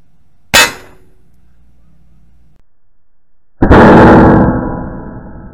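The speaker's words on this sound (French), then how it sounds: "On a donc ici un troisième tir avec la HN Grizzly, donc une balle en hollow point" A Benjamin Bulldog air rifle fires an HN Grizzly hollow point pellet into ballistic gel, with one sharp loud crack, quiet for a few seconds, then a heavy clanging impact that rings and slowly fades.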